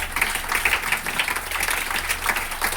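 A crowd at a business training gathering breaks into clapping for an honored guest, an uneven, lively patter of many hands at moderate loudness, continuing steadily over a low background hum.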